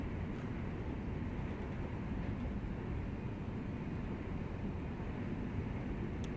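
A Class 323 electric train in Train Sim World 4 on the East Coast Main Line between Peterborough and Doncaster: a steady, low, continuous rumble of running gear, even in level throughout, with no talk.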